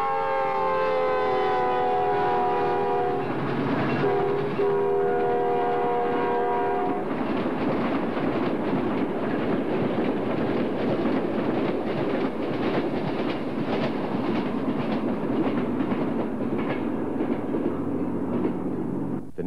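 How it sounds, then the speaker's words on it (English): A train heads out along the tracks into the desert outside Sparks, its horn sounding loudly at first, then giving way to a steady rolling roar of wheels and cars passing close. "we catch the same train as it heads out into the desert outside of Sparks"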